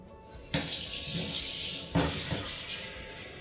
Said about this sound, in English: add a little bit of warm water and dish soap